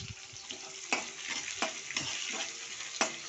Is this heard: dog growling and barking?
no